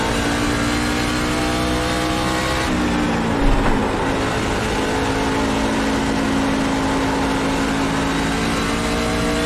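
A Ford F150 race truck's engine roars steadily in iRacing at Bristol, a loud sustained drone with a brief dip and shift in pitch partway through, no voices over it.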